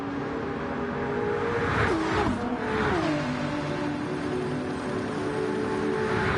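Engine note of GT3 race cars, a Nissan and a Porsche, running down the Mulsanne straight at Circuit de la Sarthe in a racing video game, a steady loud drone with rising and falling pitch shifts as gears change.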